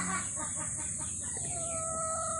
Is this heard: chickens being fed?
yes